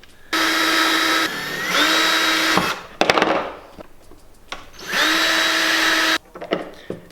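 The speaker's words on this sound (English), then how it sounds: "just put a 3 30-second drill bit in your screw gun" A screw gun fitted with a small drill bit whines through two pilot holes in wood, each a few seconds of steady high-pitched spinning, with clicks and handling noises between them.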